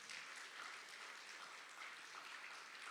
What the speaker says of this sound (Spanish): Un aplauso fuerte al joven Luis